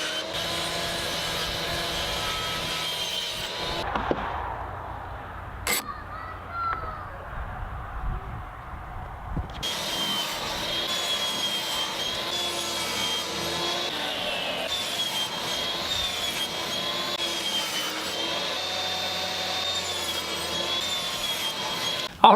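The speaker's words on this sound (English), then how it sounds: "My first step is just going to be to cut the pieces down to size." Power saw cutting 1/2-inch plywood pieces to size, a loud continuous whining buzz that cuts out briefly midway, then resumes and runs steadily, close by with no talk.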